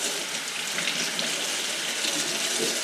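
Tap water runs steadily over the roots of a Phalaenopsis orchid being repotted from moss into bark, a close, even splashing hiss that continues without a break.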